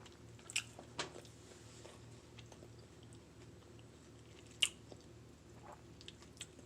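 Someone chews a low-carb bagel made with xanthan gum, soft close-up bites and wet squishy chewing with a few sharper crunchy clicks, quiet and unhurried, with no talking.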